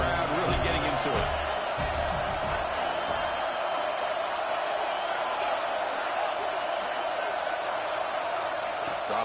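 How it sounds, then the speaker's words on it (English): A stadium crowd roars in the College Football 26 video game during a USC Trojans dynasty match, a dense, steady wall of cheering that stays constant under play-by-play commentary. "Third down and the crowd really getting into it."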